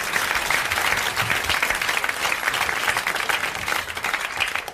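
A 1981 French TV studio audience applauds a game winner, dense sustained clapping from a full crowd that holds steady throughout and fades slightly toward the end.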